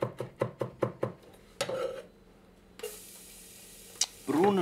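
A pot goes onto a stove set to low heat while cooking a red wine sauce: a quick run of sharp, evenly spaced metallic ticks and clinks, then a steady close hiss with a brief clank and a last rustle.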